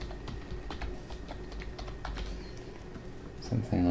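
Typing on a computer keyboard while entering text into a shape in Microsoft Word, a quick run of light, rapid key clicks at close range, ending with a brief click at the end.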